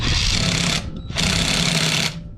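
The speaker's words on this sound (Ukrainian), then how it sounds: "Закручуємо гайку." A Parkside cordless screwdriver whirs loudly as it tightens a nut on a Geely Emgrand strut, two steady buzzing runs split by a short pause, close up and alone.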